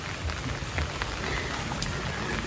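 Rain falls steadily at a rural pig farm in the province, a dense, even patter with scattered louder drops and no voices.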